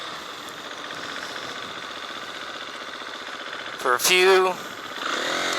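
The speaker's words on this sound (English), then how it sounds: "I just wanted to go for a little ride just to get back out on the bike" A motorcycle engine runs steadily on a short ride in hot weather in Belize, a constant close mechanical drone throughout, with a voice briefly speaking over it near the end.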